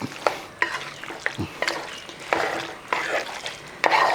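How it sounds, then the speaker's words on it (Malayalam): Meat and tapioca being stirred and mixed together in an uruli pot for Kerala-style irachi kappa, giving repeated scraping and soft sizzling strokes at an uneven rhythm, close and moderately loud, with no talk. "ഇനി നല്ലപോലെ മിക്സ് ചെയ്തെടുക്കണം എല്ലാം കൂടെ രണ്ടും കൂടെ ഒന്ന് കൂട്ടി നല്ലപോലെ യോജിപ്പിച്ചെടുക്കണം"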